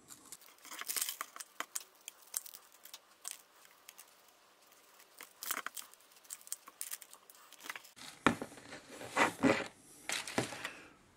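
Scissors snipping plastic drinking straws into short pieces over a container: a run of sharp, close clicks and snaps, scattered at first, then a cluster of louder cuts near the end.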